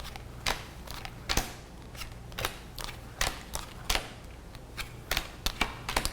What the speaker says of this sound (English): Just trying to keep the shuffling down.